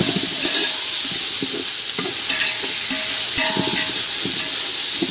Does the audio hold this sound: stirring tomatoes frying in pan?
yes